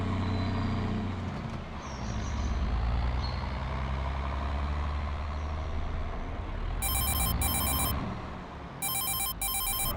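A phone rings in the Farming Simulator 22 video game, two short bursts of electronic ringing, then a pause and two more, over the steady rumbling drone of a running tractor engine.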